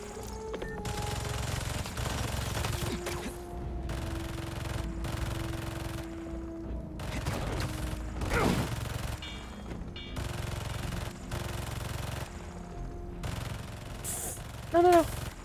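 Turrets fire in bursts of rapid gunfire in the Marvel's Spider-Man 2 video game, mixed into a dense, steady layer of game sound effects and music at moderate level.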